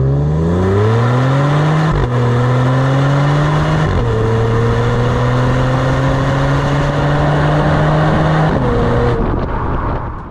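A 2022 Genesis G70's 3.3-liter twin-turbo V6 pulls hard through several gears, rising in pitch with each shift, loud and close from start to finish.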